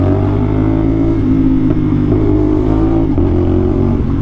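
A parallel-twin motorcycle engine with a 270-degree crank runs loud and close, holding a steady throaty drone with slight swells in revs throughout, and no voices.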